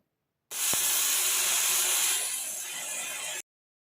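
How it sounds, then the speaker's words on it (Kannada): A pressure cooker on the stove cooking field beans lets out a loud, sustained steam whistle, a harsh hiss that cuts in abruptly, holds for about three seconds with a slight drop in force, then stops dead. "ಕುಕ್ಕರ್ ಲಿಡ್ನ ಕ್ಲೋಸ್ ಮಾಡಿ ಮೂರು ವಿಷಲ್ ಹಾಕ್ಸ್ಕೊತಾ ಇದ್ದೀನಿ"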